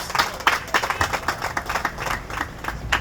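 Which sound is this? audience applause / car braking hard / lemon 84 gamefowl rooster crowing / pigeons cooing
audience applause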